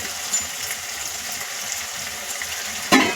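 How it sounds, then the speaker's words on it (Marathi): Spices and slit green chillies frying in hot oil for tadka palak paneer give a steady, close sizzle, with a sharp clatter of stirring near the end. "आता हे मसाले दोन मिनटं तेलामध्ये परतून घेणार आहे"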